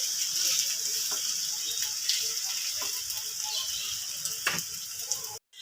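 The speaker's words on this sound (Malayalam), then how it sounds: "ആ എണ്ണയിലോട്ടൊക്കെ ഒന്ന് നിരത്തി ഇട്ട് കൊടുക്കാം കേട്ടോ നമുക്കതൊന്ന് ഫ്രൈ ചെയ്തെടുക്കാം" Anchovies frying in hot oil in a pan in a Kerala kitchen, a dense crackling sizzle with scattered pops and spits, fairly close, ending with a brief cut.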